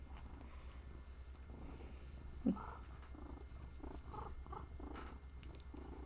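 A house cat purrs, being fed treats and rubbing against a person's leg: a steady, low rumbling purr runs throughout, close and soft, with a brief louder sound midway and faint background noises.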